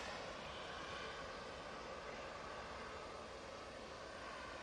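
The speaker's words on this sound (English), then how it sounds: "Oh, we can see the EasyJet now spooling up." EasyJet jet engines spooling up for departure at Manchester Airport, a faint, distant, continuous whooshing roar that holds steady throughout.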